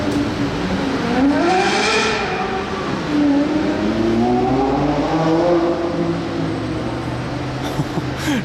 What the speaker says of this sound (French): Le V12 de la Revuelto a répondu au V10 de la LFA.